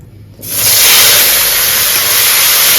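Very hot cooking oil in a pan for a Bengali taro-root and prawn curry bursts into a loud, steady sizzle after a brief quiet start and holds at full strength to the end.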